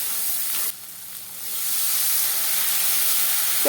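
Water splashed into a pan of frying ground spices such as coriander powder, for a mixed vegetable curry, lets out a loud, steady broadband sizzle and steamy hiss that dips briefly just after the start and then swells back.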